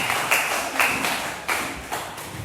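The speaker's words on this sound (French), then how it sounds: "On acclame encore pour le Seigneur." A church congregation claps in praise, a few sharp, evenly spaced bursts of hand claps rising over a steady hum of the room.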